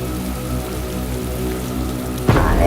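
Steady rain falls as a dense, loud, even hiss throughout, and a sudden louder swell near the end may be a gust or a heavier burst.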